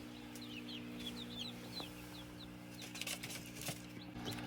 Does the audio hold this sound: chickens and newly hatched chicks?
yes